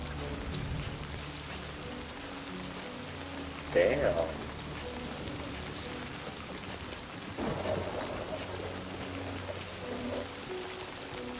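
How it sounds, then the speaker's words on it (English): Steady rain falls in a video game, a continuous hiss of drops on surfaces lasting throughout, with brief thumps and a short spoken exclamation rising above it. "And look, it raining harder."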